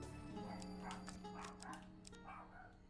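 Dogs barking in the video game Fate, a series of short yipping barks and whimpers at moderate distance, layered over a steady game music drone.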